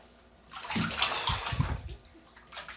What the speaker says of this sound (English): So, Dad, you get water on the floor!